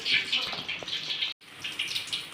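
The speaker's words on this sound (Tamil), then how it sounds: "இது கொஞ்சம் கெட்டியாக இருக்குது கொஞ்சம் தண்ணி ஊற்றிக்கலாம்" Water poured into a thick potato and pea masala for masala poori, a steady hissing splash lasting about two seconds with one brief break.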